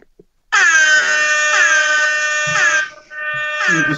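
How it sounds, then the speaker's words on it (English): A loud, sustained air horn blast with strong harmonic tones, briefly cut off and then sounded again, close and piercing, in a podcast studio. "give us some air horns"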